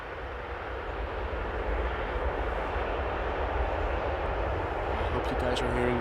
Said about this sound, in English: The rumble from the reversers.